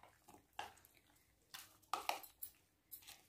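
A spoon stirs chana chaat with chaat masala and black salt in a bowl, giving a few soft, scattered scraping and clinking taps, faint and close, with quiet pauses between them.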